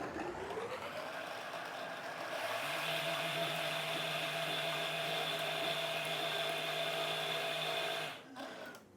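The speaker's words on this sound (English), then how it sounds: "put it in the blender, blend it up for about a minute or so" A blender whirs steadily for several seconds blending strawberries and apple juice, its pitch settling as it runs, then winds down abruptly near the end.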